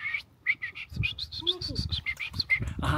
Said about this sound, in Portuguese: Sente os pássaros lá em cima, naquelas árvores.